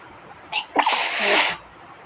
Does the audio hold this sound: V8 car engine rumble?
no